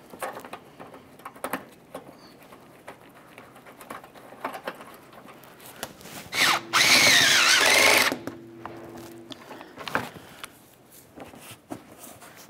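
A power tool snugs a bumper mounting bolt on a 2012-2018 Nissan Altima while a front bumper impact absorber is replaced. It gives one short, loud whir of about a second and a half, with quieter handling noises around it.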